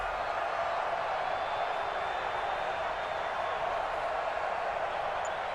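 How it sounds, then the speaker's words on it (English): The home crowd in a Madden 20 football game, Indianapolis Colts, gives a steady, even wash of distant applause and crowd roar that holds unbroken throughout. "And the home crowd applauding."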